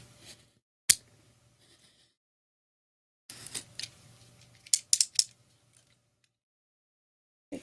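A craft blade slices paper along a ruler in a quiet room, a single sharp scrape followed after a pause by a cluster of short cutting strokes and taps, close and crisp.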